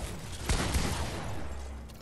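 Gunfire in the battle royale game Fortnite, a burst of shots with a sharp crack near the start followed by scattered hits over a steady noisy background, no voices.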